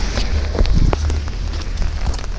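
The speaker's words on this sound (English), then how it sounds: "Oh, it's raining. It's raining." Outdoor rain falling steadily as a dense, continuous hiss with scattered drop patters, loud and close against the microphone, with no clear talking.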